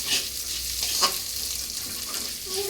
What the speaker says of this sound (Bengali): এবার মুগের ডালটা সঙ্গে নিয়ে হালকা ভেজে নেওয়া হবে।